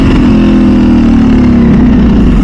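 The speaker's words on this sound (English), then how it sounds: "And we'll do a side-by-side comparison of the exhaust" Revving exhaust from a Ducati or MV Agusta motorcycle, a loud close engine note that swells and then slides down in pitch over a couple of seconds, with no voices.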